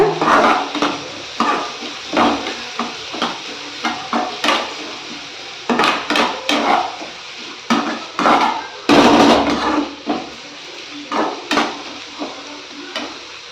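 Sliced onion is stirred into ragi dough in a pan for ragi urundai, producing repeated scraping and knocking strokes of a spoon against the pan in an irregular rhythm, close by and fairly loud, with no speech.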